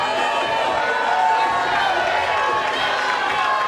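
A capacity crowd cheers and roars steadily at a women's pro MMA bout between rounds, a dense, continuous wash of voices with no clear breaks throughout.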